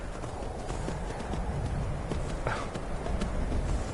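Horse hooves clip-clop in the VR video game Skyrim VR, a continuous muffled trotting rhythm set within a thick, steady bed of game ambience and noise, with no talking.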